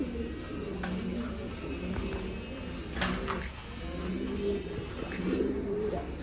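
Pigeons from Taiwan coo softly in a new loft, with low repeated throaty calls layered over steady background noise and an occasional sharper chirp or tap.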